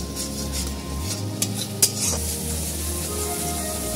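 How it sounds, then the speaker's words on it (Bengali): Spice masala of cumin powder, salt and turmeric is stir-fried in a pan, producing a continuous close sizzle. A metal spoon scrapes and clinks against the pan throughout. "এবার আমি ভালো করে মশলাটা কষিয়ে নেব একদম।"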